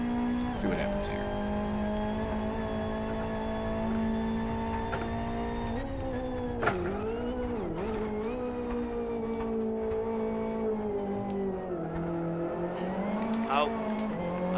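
A damaged race car in the Live for Speed video game, its engine holding a steady high drone with short dips and revs and a few tire squeals, while people talk over it.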